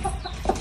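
A brooding hen settled on her nest gives a short, close clucking call, a brief throaty sound lasting under a second.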